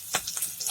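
Mustard seeds, green chili, grated ginger, garlic and cinnamon frying in hot oil give soft crackling sizzles and a few brief pops, quiet and close, with no talk.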